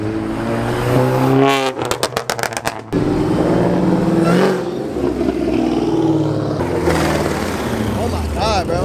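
Revving car engine at a chaotic Raleigh car meet, the sharp pulsing bursts of a Corvette cutting through the crowd, loud and close, with excited shouting throughout.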